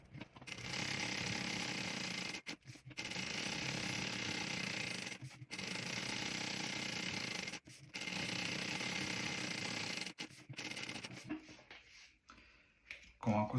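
A sewing machine stitches around the mirror panel of a handbag in several long, steady mechanical runs, each broken by short pauses, heard close and fairly quiet.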